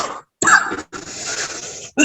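A close, loud cough bursts out, followed by a longer rough, noisy rasp and another brief cough at the very end.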